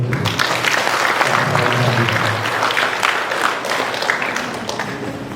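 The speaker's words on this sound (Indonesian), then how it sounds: "Mari kita beri tepuk tangan untuk" Audience applause at an open academic senate session of a health polytechnic in Sorong, a loud, dense wash of clapping from a large crowd that stays steady and eases slightly toward the end.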